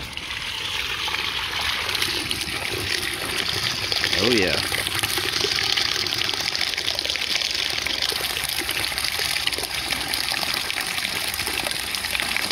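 Dirty water from a carpet cleaning machine's tank gushes and splashes out steadily as it is dumped, a continuous loud rushing pour, with a brief spoken remark over it.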